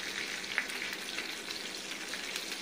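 Green chillies fry lightly in hot oil, making a continuous crackling sizzle with small pops, fairly close and steady, with no voices.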